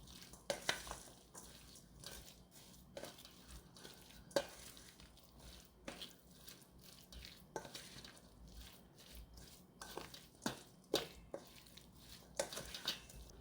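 Hands squelch and rustle through chive kimchi as it is mixed with seasoning, a soft, wet, irregular kneading with occasional clicks from a bowl, close and quiet.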